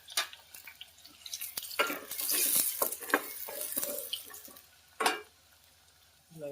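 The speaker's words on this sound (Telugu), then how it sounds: "ఇలా కొంచెం ఆనియన్ పచ్చివాసన పోయే వరకు వేగనీయాలి." Chopped onions sizzle and crackle in a hot pan for a restaurant-style palak paneer curry, with uneven bursts of stirring and scraping close by and no talking.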